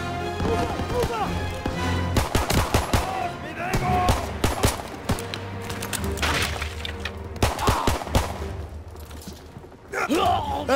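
Battlefield gunfire in Call of Duty WWII, a flurry of sharp rifle and machine-gun shots in irregular bursts over a low rumbling game ambience, with occasional faint voices.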